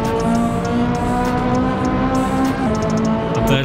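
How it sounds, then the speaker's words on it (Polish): Ferrari Italia with Stage 1 upgrades driving on a Tokyo highway in Forza Horizon 5, a loud steady engine drone with shifting pitch and brief tire squeals, constant throughout. "Tutaj mamy Ferrari Italia Stage 1."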